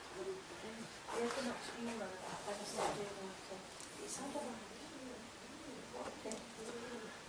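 Pigeons coo faintly inside St Mary Church in Colston Bassett, with soft low warbling calls drifting at a distance over quiet room noise.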